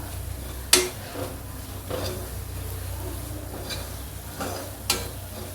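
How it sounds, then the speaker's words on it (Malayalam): Garam masala fries on a low flame for Manjali chicken biryani. A spoon scrapes and taps the pan every second or so over a faint, steady sizzle, quiet and close, with no talking. "ഇനി ഇത് ലോ ഫ്ലെയിമിൽ 1 മിനിറ്റ് നേരം നന്നായിട്ട് മൂപ്പിച്ചെടുക്കാം."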